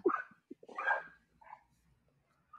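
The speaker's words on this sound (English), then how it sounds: "I have a dog who's losing her mind at my house here right now" Dog at a house giving a few sharp barks and yips in quick bursts, then a softer whine and a faint final yelp, fairly close, with no talk.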